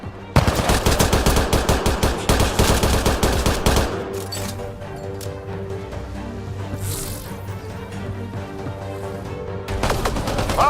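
Rapid automatic gunfire bursts loudly in the video game Mass Effect Andromeda, a dense stream of shots that gives way to a quieter ambient hum before firing returns at the end.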